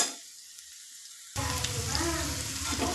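Chopped onions frying in hot oil for a Bathani kurma, a steady close sizzle that starts faint, then jumps louder partway through as the pan crackles and bubbles on its own.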